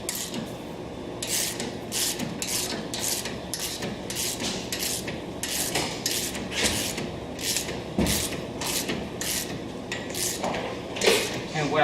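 A socket wrench works a 9/16 12-point bolt at the top of a 200 Series Land Cruiser suspension install, with a rapid run of close, repeated ratcheting clicks and metallic rubbing that continues throughout.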